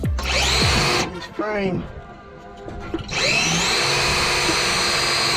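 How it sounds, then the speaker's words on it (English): A DeWalt cordless drill whines at full speed boring a hole through a 2021 Polaris Ranger frame, loud and close, dropping out mid-clip while someone speaks briefly, then spinning up again and running steadily to the end. "Got our trusty DeWalt here. See if we can get a hole in this"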